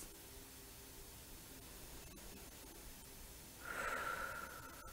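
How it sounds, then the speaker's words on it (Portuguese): Slow, deep breaths during a guided meditation, soft and airy over steady background hiss, with one stronger exhale near the end. "Fechem os olhos, respirem profundamente, relaxem. Três respirações."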